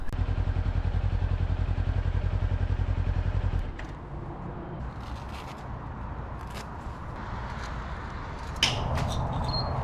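A Ninja 400 motorcycle engine runs with a low, steady rumble for about four seconds, then drops to a quieter idle under light clattering and a few small clicks.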